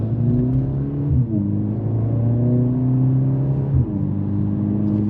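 From inside a 2024 Mercedes-AMG CLA 45 S Coupe with an 8-speed dual-clutch transmission, the engine hums loud and steady as the car accelerates, pitch climbing smoothly, with two brief dips at gear changes and no talk.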